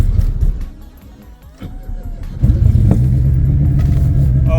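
A Vecta 4x4 turbo engine cranks and catches, a low uneven rumble building after a weak start into a loud, steady idle close by.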